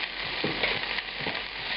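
Carrots and onions sizzle in rendered beef fat in a pan while being stirred for a beef bourguignon, a close, continuous frying hiss broken by a few soft scraping strokes.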